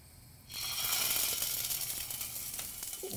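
Chicken cutlets with a juicy filling fry in a pan, the sizzle starting abruptly and holding as a loud, close, steady hiss with small crackles.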